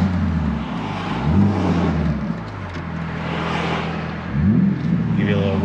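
A 2021 BMW G80 M3 driving with the windows down: a steady low engine drone with rising revs and gear-change sweeps, plus road and wind rush, fairly close and loud throughout.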